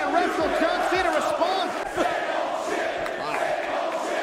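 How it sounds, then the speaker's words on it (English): A boisterous wrestling crowd of original ECW fans in the Hammerstein Ballroom jeers and chants at John Cena, a dense roar of many voices with shouts and whoops rising out of it throughout. "Cena was met with raucous jeering and chants of"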